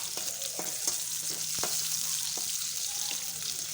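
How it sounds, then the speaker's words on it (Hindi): Onions sizzle as they fry and brown in oil in a kadhai, a steady bright hiss with a few faint scrapes and taps from occasional stirring, no talking. "प्याज को अच्छी तरह से ब्राउन कर लेंगे"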